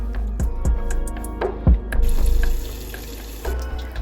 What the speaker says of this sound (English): I filled up my tub with hot water